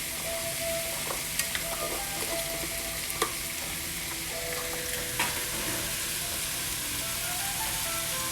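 Zucchini sautéing in a pan over medium-high heat with fresh corn nearby, a steady soft sizzle and crackle with a few faint utensil clinks, fairly quiet and continuous, no speech.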